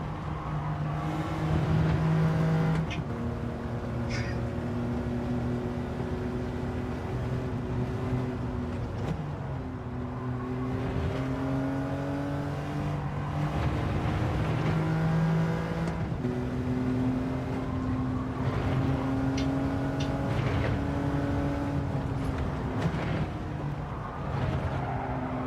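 A Porsche race car engine in the iRacing sim during endurance practice drones steadily and at moderate level, its pitch rising and falling through repeated upshifts and throttle lifts, with no talk over it.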